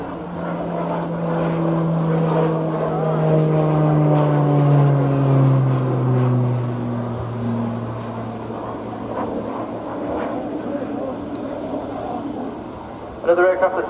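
A fast jet training aircraft performs a slow roll during an air show at RNAS Yeovilton, its engine sound sweeping past as a steady roar with falling pitch, heard amid crowd noise.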